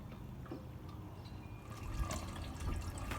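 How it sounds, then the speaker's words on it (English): Waste vegetable oil drains from an opened valve into a container in a biodiesel setup, a faint, steady liquid trickle with soft drips, close by and alone. "And then I can just open the valve and dump it into something like this for the first stage, glycerin removal."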